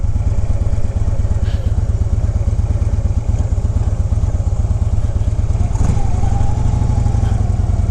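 Harley-Davidson motorcycle doing slow maneuvers on a closed road, its engine a loud, steady low rumble close by with a continuous throbbing pulse throughout and no pause.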